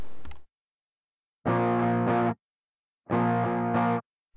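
Two sustained electric guitar phrases through a Tube Screamer overdrive on default settings, with a light, bright crunch, each about a second long, separated by silence.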